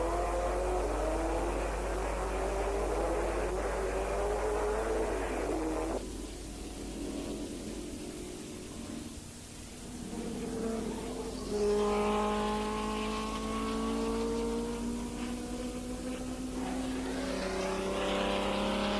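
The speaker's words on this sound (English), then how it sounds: "Ferraris led the chasing pack behind this leading trio." Ferrari racing cars at a 1959 Grand Prix, loud engines roaring past and shifting pitch as they go by, a brief lull and then more cars accelerating through, with no voices.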